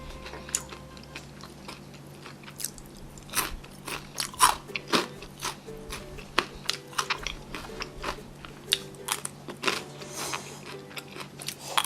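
Crispy fried food bitten and crunched during a mukbang of spicy Thai rice noodle salad with golden fried eggs, loud close crunches in an irregular rhythm, with no talking.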